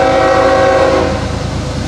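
A freight train of covered hoppers passes Marion Union Station, its horn sounding loud and close for about a second before fading into a steady rolling rumble.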